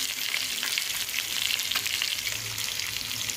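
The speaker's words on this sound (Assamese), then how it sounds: "এতিয়া মই এই মাছখিনি ফ্ৰাই কৰি আছোঁ" Fish pieces fry in a hot pan, a dense continuous close sizzle and crackle with no talking over it.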